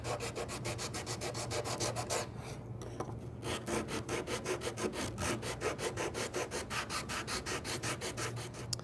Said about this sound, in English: Sanding block makes quick work of that.